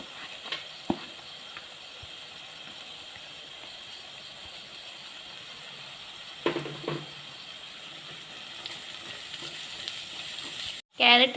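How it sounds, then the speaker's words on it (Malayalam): Chopped carrots and onion sauté in a pan with a soft, continuous sizzle, a few stirring scrapes and a sharper clatter near the end. The sound stays fairly quiet and close. "ക്യാരറ്റ് ചെറുതായിട്ടൊന്ന് വഴന്നു വരുമ്പോൾ"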